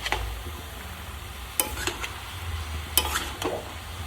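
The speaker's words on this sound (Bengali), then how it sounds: "এরকমভাবে মশলাগুলো দিয়ে এগুলো দিয়ে ভালো করে মিশিয়ে দিতে হবে" A spatula stirs spices into bottle gourd in a pan over a low, steady sizzle, with a few sharp scraping strokes at irregular intervals.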